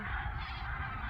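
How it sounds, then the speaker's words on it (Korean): A large flock of seagulls cries over a fishing-village mudflat on the Seosan coast at dawn, a dense, continuous wash of overlapping calls with no gaps. "갈매기들 엄청 많이 몰려고 있네요."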